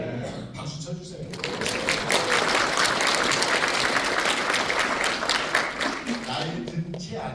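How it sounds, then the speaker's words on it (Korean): Audience applause during a writing lecture, a dense, loud wash of clapping that swells after a moment and holds steady, with some talk at the edges. "박수 쳐주세요"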